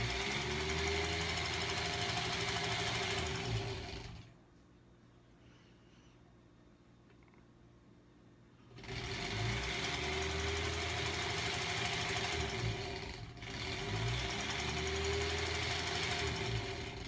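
A sewing machine stitching strips of fabric for a granny-square quilt gives a steady, loud mechanical whir with a rapid regular pulse. It cuts out for several seconds, then starts again and runs on. Nobody speaks.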